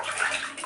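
Water splashes and swishes as a burnt gas stove stand is dipped into a basin of plain water, a brief, soft, close wash of sound with no voices.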